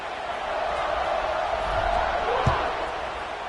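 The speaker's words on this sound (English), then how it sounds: "this crowd is feeling themselves after that last drive" A loud, dense roar from a stadium crowd in a college football video game before a kickoff, continuous and full, with a sharp thump near the middle.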